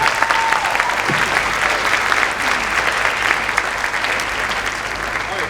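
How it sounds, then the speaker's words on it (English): Audience applause fills a high school spring band concert hall, honoring the seniors: steady, dense clapping from a large crowd throughout, with faint voices and a brief whistle-like tone rising above it early on. "One more round of applause for the seniors."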